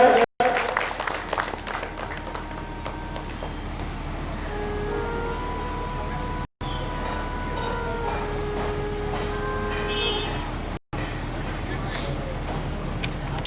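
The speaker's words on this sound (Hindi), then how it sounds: "महाराज श्री का जोरदार तालियों से स्वागत किया जाए।" A crowd of listeners at a religious discourse claps to welcome Maharaj Shri, a dense wash of applause that carries on steadily under sustained musical tones and voices.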